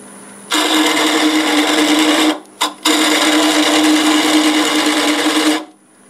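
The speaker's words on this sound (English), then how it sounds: "I'm going to still be turning in reverse. And I'm going to use my carbide tool on this." Wood lathe spinning chestnut end grain in reverse while a carbide tool cuts it, giving a loud, steady buzzing drone in two long bursts separated by a brief pause.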